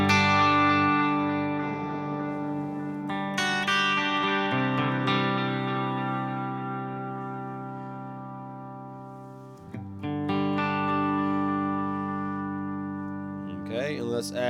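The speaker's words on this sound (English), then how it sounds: "let's make this reverb a lot longer" Sustained electric guitar chords ring out through a long reverb set on a Headrush Gigboard, each strum swelling and decaying into a wide, lingering wash, with a new chord struck midway.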